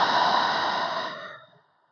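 A single long exhale out through the mouth during a beginner yoga class, a close, breathy whoosh that slowly fades to silence over about a second and a half.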